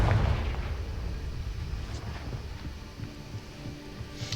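A Confringo fire spell explodes in Hogwarts Legacy, a heavy low boom at the start trailing into a sustained rumbling roar with faint crackles.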